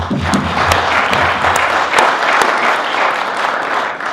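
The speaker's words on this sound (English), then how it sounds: "Please give them a round of applause." Audience applause in a county meeting hall during a State of the County breakfast event, steady dense clapping sustained throughout at close range with no talk over it.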